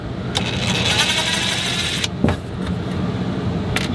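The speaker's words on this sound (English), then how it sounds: "You hear that furnace blasting." RV furnace blasting as a steady loud whooshing roar that fills the cabin, with a brief clunk partway through and a higher hiss that drops out halfway.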